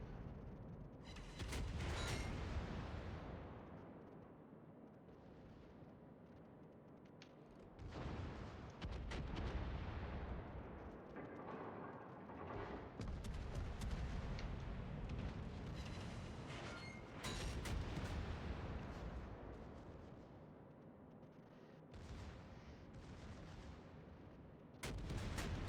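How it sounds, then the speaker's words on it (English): Naval artillery barrage in World of Warships, with repeated heavy booming salvos rolling in bursts over a constant loud battle rumble, several big blasts spaced across the stretch. "One more barrage and we have them."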